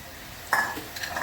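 Fried lentil dumplings (bori) tumble into a pan of cooking bottle gourd, a single soft clattering plop followed by light stirring and faint sizzle, close and brief with no talk.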